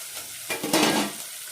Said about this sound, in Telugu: నూనె పోస్తున్నాను. పచ్చిమిర్చి ఎర్రగడ్డ వేస్తున్నానండి.